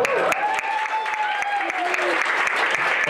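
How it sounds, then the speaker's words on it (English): Applause from a small audience at a casual talk event, close clapping with a voice or tone running over it partway through. "Can we get another round of applause?"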